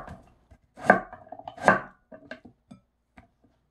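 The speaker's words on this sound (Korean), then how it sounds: "그렇게 썰어 볼게요. 너무 두껍지 않게 이렇게 얇게 쓰는 겁니다." A knife slices radish into thin pieces on a cutting board for nabak kimchi, producing a few distinct close chopping knocks followed by lighter, quieter cuts, with no voices.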